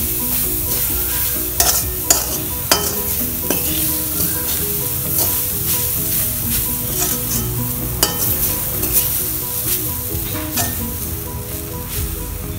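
Steady sizzling of banana flower and lentil usili frying in a pan, with a utensil scraping and stirring through it in repeated strokes, close up and fairly loud.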